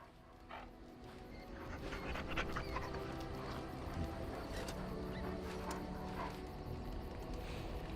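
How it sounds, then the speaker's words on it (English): Dog in the video game Dragon Age: Origins panting and whimpering with small yips, a steady, close, moderately quiet stream of excited canine sounds over a low game background. "Bounces around you, barking excitedly."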